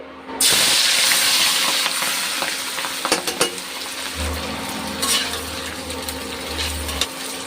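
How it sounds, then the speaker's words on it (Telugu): Sliced onions frying in oil left over from frying fish pieces, for a fish biryani. A steady close sizzle with hiss runs throughout, with occasional stirring clinks and a low rumble partway through, and no voices. "చేప ముక్కలు ఫ్రై చేసుకున్న ఆయిల్ ఉంది కదండి అందులోనే ఈ ఆనియన్స్ని ఫ్రై చేసేసుకుందాం"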